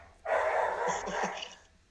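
A dog gives a single sharp bark followed by brief yipping sounds, close and fairly loud, with no talk over it.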